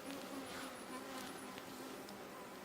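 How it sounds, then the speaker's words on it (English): Honey bees buzz in a dense, steady drone close by while a swarmed hive's brood frames are opened during a July inspection, with no voices over the hum. "That bee sounds pissed off."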